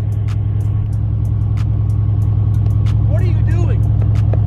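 A car engine runs at a loud, steady, low idle throughout, with no clear start or rev, while people talk over it close by.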